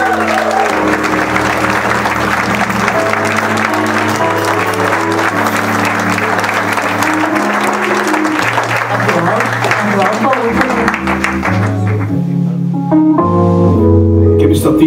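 Audience applause for a singer at a concert in Lier, Belgium, a dense, steady clatter of clapping that runs the whole length, loud and close, over sustained music tones.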